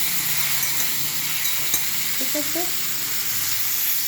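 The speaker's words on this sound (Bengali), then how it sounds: "কাঁচা লঙ্কা ফোড়ন দিলাম। এরপরে ফুলকপি আলুগুলো দিয়ে দিলাম।" Cauliflower and potatoes sizzle steadily in hot oil after a green chilli tempering, a continuous close frying hiss with a brief stir, and a voice speaks briefly over it.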